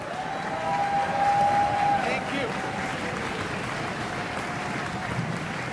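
Audience at a wind ensemble concert for Cannon Music Camp applauding families, a continuous dense clapping that swells briefly then holds steady, with a voice speaking over it.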